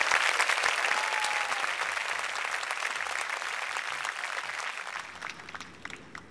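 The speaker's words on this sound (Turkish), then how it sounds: "Alkışlarla Mergül Falta'yı uğurluyoruz şimdilik." Studio audience applauding a folk-song singer on a Turkish television competition, dense sustained clapping that gradually thins and fades toward the end.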